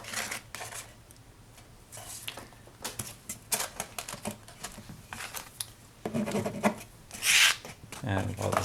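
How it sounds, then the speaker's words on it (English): Paper freshly glued onto the side and front of a stacking box is rubbed down by hand in uneven scraping strokes, close up and moderately loud, with a few sharper rasps near the end. "I'll just rub this down on the side. And rub down the front"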